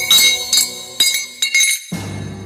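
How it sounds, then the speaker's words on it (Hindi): A metal bangle slips off a hand and drops, giving several bright ringing clinks and bounces in quick succession, loud and close, followed by a low rumbling tone. "उड़ाने के चक्कर में उसके हाथ का कड़ा खोल के गिर गया।"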